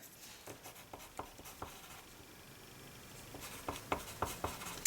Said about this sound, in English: let me just write this down